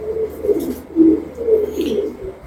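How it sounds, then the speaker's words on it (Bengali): Red Magpie Danish fancy pigeons cooing in a loft, several close, clear rolling coos repeating in a soft rhythm, with faint bird chirps in the background and no talking. "এটা কি পায়রা আছে? এটা আছে রেড ম্যাকপাই ড্যানিশ।"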